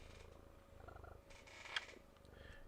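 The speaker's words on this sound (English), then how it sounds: "purring is my kitty" A pet cat purrs close by, a soft low rhythmic rumble pulsing steadily and quietly throughout, with a brief faint click partway through.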